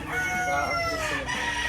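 A young bullstag rooster crows loudly and close, one sustained strained crow filling the whole moment with no talk over it.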